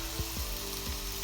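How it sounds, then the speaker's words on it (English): Garlic and ginger sizzle in a pan of oil while a cashew nut stew is cooked: a steady close frying hiss with a few faint stirring knocks, no talk. "You can hear that nice sizzling."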